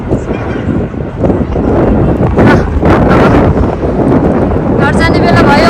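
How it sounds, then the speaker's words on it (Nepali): Wind gusts hard across an outdoor park, buffeting loudly and steadily, with a person speaking under the rushing noise. "अब चाहिँ हावा चल्यो, शीतल, अति शीतल लाग्यो मलाई चाहिँ।"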